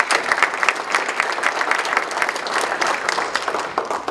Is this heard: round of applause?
yes